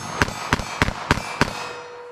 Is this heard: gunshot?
yes